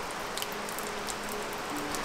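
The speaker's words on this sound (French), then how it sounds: "Il pleut grave, faut que je m'abrite." Heavy rain pours steadily at an abandoned outdoor water park, a dense continuous hiss of drops on surfaces that stays even and close throughout with no other sounds standing out.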